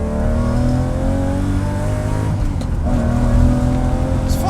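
A manual Lamborghini Murcielago with four-wheel drive accelerating hard in second gear, its engine note climbing steadily in a loud, continuous rev, close up and alone.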